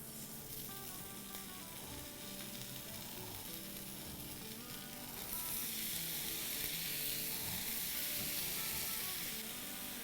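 Ground gyro meat fries in oil on a hot griddle, a constant dense sizzle with occasional stirring scrapes that swells louder halfway through.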